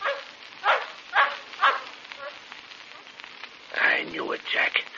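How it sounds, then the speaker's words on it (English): A native dog barks in an old South African radio serial set in Africa, several sharp yaps in a loose rhythm, fairly close and clear against a faint crackling background. "All I heard was the yap of a native dog."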